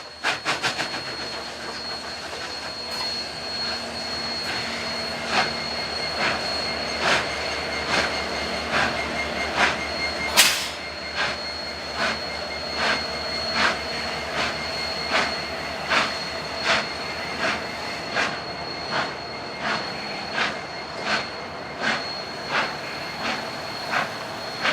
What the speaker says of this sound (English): Watch the 80-inch drivers fighting for traction on the slight grade.